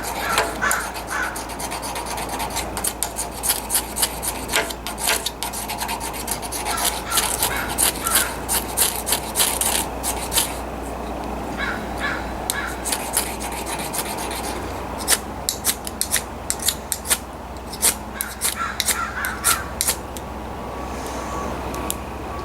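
Ferro rod repeatedly struck with a scraper to throw sparks, an ongoing series of close, sharp rasping scrapes in uneven rhythm.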